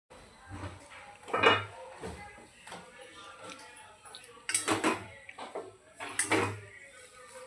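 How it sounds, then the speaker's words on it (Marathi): A lid set back onto a cooking pot of bhagar upma, a few light clanks and taps with soft shuffling between them, close and fairly quiet. "आपण ह्यावर परत झाकण ठेवूया"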